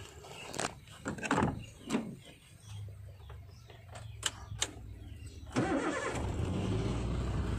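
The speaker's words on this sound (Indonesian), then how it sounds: "Kita coba nyalakan untuk mesin." A used car's engine starts with a short crank that catches about midway, then settles into a quiet, smooth idle. Scattered clicks and handling noises come before it, with faint voices in the background.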